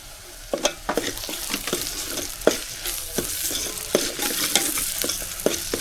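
Onion with crushed ginger, garlic and chilli paste being sautéed for a chicken dish, a frying hiss with repeated sharp scraping strokes of a spoon against the pan at an uneven rhythm, close and alone.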